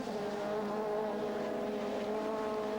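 Touring race cars, Alfa Romeos and a privateer Audi among them, roar past at the Wunstorf circuit, a dense sustained engine drone with steady pitch, loud and continuous.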